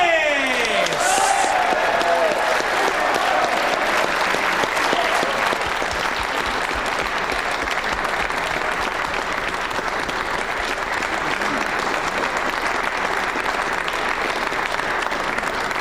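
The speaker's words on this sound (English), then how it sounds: "A big round of applause for Carl Houdini Morris!" Audience applause for a player being introduced at a men's quarter-final pool championship match, steady and sustained clapping from a large crowd that fills the whole stretch, with a few faint cheers early on.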